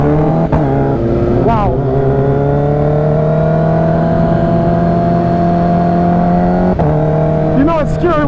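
A 1,500-horsepower Nissan GT-R races against a Kawasaki Ninja H2 motorcycle, its engine droning loudly and steadily and climbing in pitch through gear changes. A voice speaks briefly over the engine noise.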